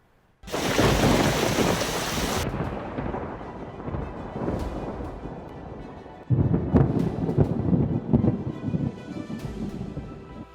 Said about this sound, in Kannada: ಆಲಿಕಲ್ಲು ಸಹಿತ ಭಾರಿ ಮಳೆ ಅವಾಂತರವನ್ನೇ ಸೃಷ್ಟಿಸಿದೆ